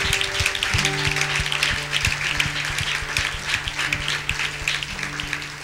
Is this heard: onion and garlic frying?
no